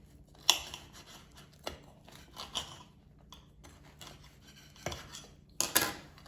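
A knife and utensils cut into an air-fried Red Baron frozen deep dish pizza single, with quiet scraping and a few sharp clicks and clinks against a plate, close and sparse.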